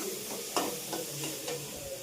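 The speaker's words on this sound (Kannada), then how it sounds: "ಇದೇ ಥರ ಎಲ್ಲ ಬದನೆಕಾಯಿನೂ ಎಣ್ಣೆಯಲ್ಲಿ ಕರೆದಿಟ್ಕೊಂಡು ಒಗ್ಗರಣೆ ಮಾಡ್ಕೊಳ್ಳೋಣ" Onions sizzle quietly in hot oil for a tempering for stuffed brinjal curry, with soft frying hiss and a few scrapes of stirring.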